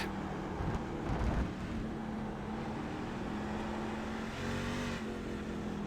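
Race car engine heard from the leader's cockpit in an iRacing sim race at Circuit of the Americas, a steady loud drone with a rising whine and shifts in pitch as the car catches lapped traffic.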